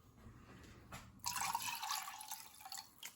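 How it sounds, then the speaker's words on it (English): Distilled vinegar pours into a pot for pickling peppers, a soft, close liquid splash that swells into a steady trickling stream after a few faint drips. "I'm going to add 1 1/3 cup of distilled vinegar,"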